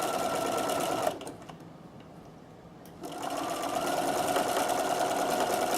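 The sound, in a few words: sewing machine stitching letters and hearts on a postcard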